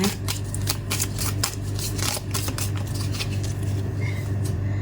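Tarot cards being shuffled and drawn, a steady run of soft papery flicks and riffles close by over a low background hum.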